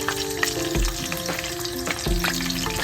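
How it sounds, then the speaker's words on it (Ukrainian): Catfish roe frying in hot oil over a medium flame, a steady close crackling sizzle with a few soft knocks of the utensil, no voices. "Масло нагрілося, олійка. Викладуємо нашу ікру сома."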